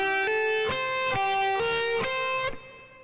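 Electric guitar plays a slow blues phrase alone, a handful of sustained, bending notes that ring out and fade at the end.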